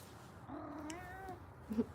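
A cat lets out a soft, drawn-out meow, followed by a brief louder chirp near the end, close by in a quiet room.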